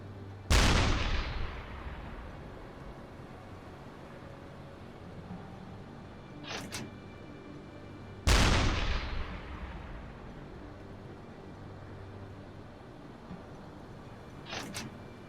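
A U-boat's deck gun in the submarine game UBOAT fires two heavy booming shots about eight seconds apart, each ringing out into a long fading rumble, with fainter distant thuds following each one and no voices.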